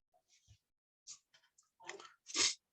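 A few quiet, sparse mouse clicks on a submit button during a WordPress installation, crisp and close, with brief gaps of silence between them and no talking.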